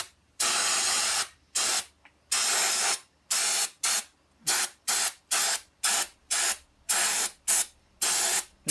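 Parts cleaner sprayed in rapid bursts onto an engine part from a 1977 VW Beetle: about fifteen loud, close hissing blasts, each under a second, separated by short pauses, with no talking.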